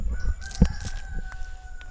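Chickens on a hot pepper farm in Belize give a quick burst of clucking and crowing calls, fairly close, over outdoor background hiss with a faint steady tone.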